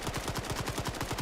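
Rapid gunfire in a competitive shooter match, a quick burst of shots in close succession, sharp and repeated over a steady background.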